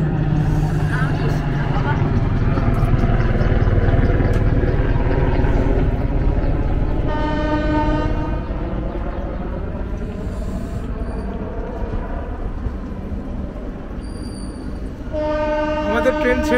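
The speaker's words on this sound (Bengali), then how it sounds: "আমাদের ট্রেন ছেড়ে দিল পাঠানকোট ক্যান্টনমেন্ট স্টেশন।" The Himgiri Express pulls out of Pathankot Cantonment station with a loud, steady rumble of rolling coaches and two long, blaring horn blasts, one midway and one near the end, with voices faintly underneath.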